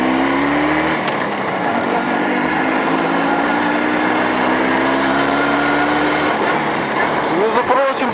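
An engine running in during break-in on Chinese-made cylinders in 40-degree heat in Volgograd, a steady loud drone with slowly rising pitch, and a voice talking over it.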